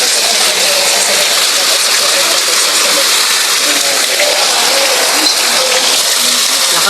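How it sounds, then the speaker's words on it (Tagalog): Heavy rain pours down steadily during a typhoon in Los Baños, Laguna, a dense, continuous wash of close, loud noise that stays unbroken throughout, with faint voices now and then underneath. "Ay, bumuhos na naman ang ulan."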